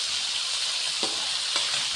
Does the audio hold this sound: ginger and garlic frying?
yes